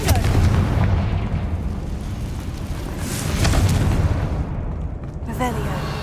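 Fire-spell explosions in the Hogwarts Legacy video game boom loudly with dense, rumbling blasts and crackling debris that fill the whole stretch, and a voice is heard calling out spells over the bursts.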